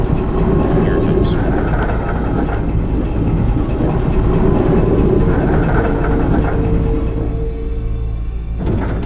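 A tram in the video game Resident Evil 2 rumbles in with a loud, steady low mechanical drone and faint rattling, under a person talking.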